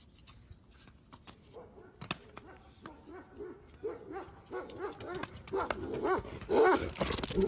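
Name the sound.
dogs barking and chasing a man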